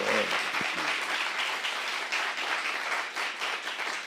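A church congregation claps steadily in sustained applause during a Saturday worship service, dense and continuous throughout, with a brief voice at the very start.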